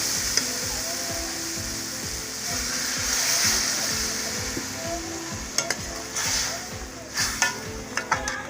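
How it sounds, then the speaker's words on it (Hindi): Water goes into a hot pan of frying potatoes and chana dal, with a hissing sizzle and bubbling over a steady low hum, then a few sharp clinks of stirring near the end. "अब मैं इसमें 1 लीटर पानी डाल रही हूँ।"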